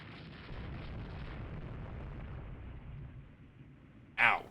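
14-inch naval shells striking a 2,000-ton ship in the naval strategy game Rule the Waves 3, a low, muffled rumble that fades, followed by a short, sharp impact burst near the end.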